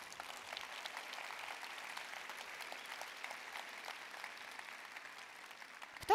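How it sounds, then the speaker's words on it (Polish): An audience at a business conference session applauds, a soft, distant wash of steady clapping that continues evenly and ends with a brief louder knock. "wielkie brawa."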